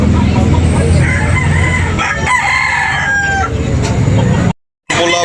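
A rooster crows loudly and close by at a cockfighting market in Tabunok, Talisay, Cebu, its long cry rising and trailing off, with other clucking and farmyard noise around it.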